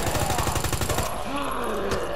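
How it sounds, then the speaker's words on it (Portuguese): Rapid automatic gunfire rattles out in Resident Evil 2 as zombies are shot. A dense burst of shots fires for about a second, then gives way to a lingering game ambience. "O zumbi toma 800 mil tiros."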